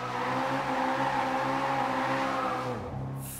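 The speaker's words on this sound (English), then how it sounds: "sound like a Formula 1 car going by there. Like a proper 80s style Formula 1 car" Car engine in the Forza Horizon 2 racing game, revving hard with a high, F1-like buzzing note, sustained loud then dropping off sharply near the end.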